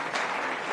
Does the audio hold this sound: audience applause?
yes